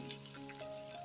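Onion and green chillies frying in a pan with urad dal and curry leaves: a faint, steady sizzle, quiet and close, with a low hum running beneath.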